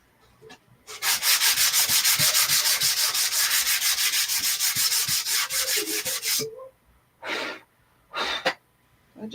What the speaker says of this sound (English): I just used my little sander from Menards.